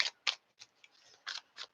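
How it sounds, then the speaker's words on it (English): Tarot cards are pulled from a deck, producing a few close, crisp snapping and sliding flicks spaced irregularly in a quiet room. "Let me pull some cards."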